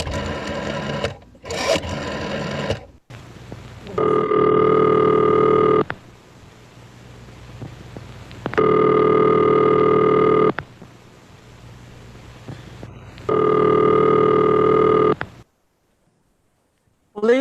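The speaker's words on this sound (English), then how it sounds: "Ringing the police department." A telephone rings while a call goes through to a police department in a live radio-style drama, three long loud electronic ring bursts separated by quieter gaps, after shorter tones at the start.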